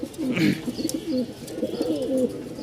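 Many pigeons coo together in a loft, a steady layered murmur of soft throaty rolling calls that stays moderately loud throughout, with a few faint higher chirps above.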